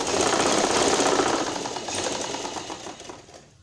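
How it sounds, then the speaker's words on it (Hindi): Sewing machine stitching along the belt of a salwar, a dense continuous close-up rattling hum that holds steady and then gradually fades toward the end. "पूरी बेल्ट में लगा देंगे ये सिलाई।"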